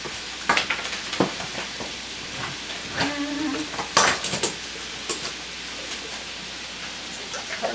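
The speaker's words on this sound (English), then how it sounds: "And I put the coconut milk in a saucepan directly on the stove." A saucepan of coconut milk and peanut butter sits on a stove, with metal utensils clinking and knocking against the pan and other cookware. The sharp, scattered clatter is close by over a low background hiss.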